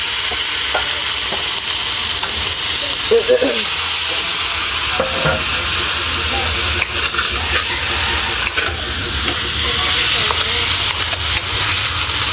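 Meat fries and renders its own fat in a pan for a mung bean stew, giving a loud, close, constant sizzle and hiss with occasional scraping and clinks of stirring and no talk.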